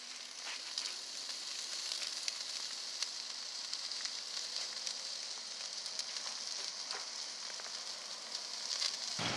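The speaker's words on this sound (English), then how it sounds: "getting them nice and smoky and cooking under the hot flame" Shish kebabs sizzle and crackle over the open flame of an outdoor fire pit, making a continuous, even hiss with faint pops at close range and no speech.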